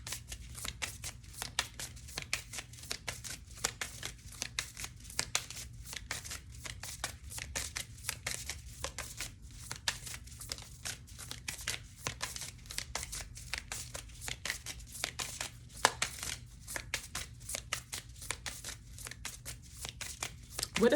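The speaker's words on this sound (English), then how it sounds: "So I'm gonna actually get a card out from this Amente Oracle deck here." An Amente Oracle card deck shuffled by hand: soft, fast, papery riffling and flicking of cards, continuous and fairly quiet, heard close up with no talking over it.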